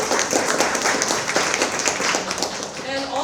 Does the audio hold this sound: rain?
no